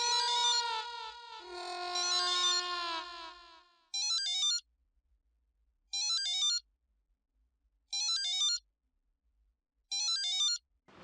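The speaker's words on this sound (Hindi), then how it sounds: "फोन बज रहा है" An electronic phone ringtone sounds in repeated short bursts with silent gaps between, preceded by a longer melodic chime phrase; clear and close.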